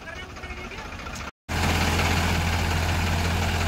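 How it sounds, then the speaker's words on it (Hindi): Tractors straining to pull through deep mud: a loud, steady engine drone with a heavy low rumble, cut by a brief dropout, then rising to a constant hard-working roar. "क्या पावर लगाई है ट्रैक्टरों ने इतनी कीचड़ में"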